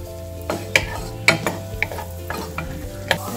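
Ginger sizzles in melted butter for chicken curry, with a soft steady frying hiss under sharp spoon scrapes and clinks against the pan, all close by.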